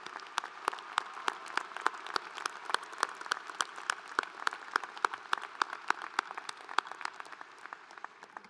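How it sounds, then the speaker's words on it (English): Graduation ceremony audience applauding the graduates, a dense, steady roll of many hands clapping together for several seconds, fairly distant and even, easing slightly toward the end. "A round of applause for everyone."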